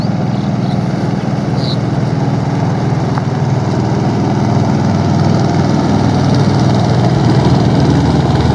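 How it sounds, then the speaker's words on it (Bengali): A fast fishing boat's engine speeds along the Padma river, a loud, steady low-pitched drone with constant vibration and no breaks, slightly rising toward the end, with no talking. "তাদের নৌকার কি ভয়াবহ স্পিড, খুবই দ্রুত গতির হয় এই সমস্ত নৌকা"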